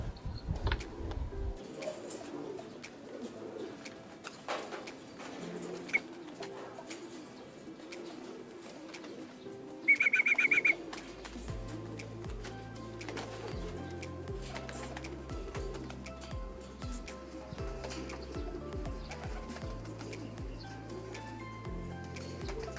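Soft racing pigeon coos and wing flutters drift in as birds arrive at the loft, with faint ticking and a brief electronic beep partway through.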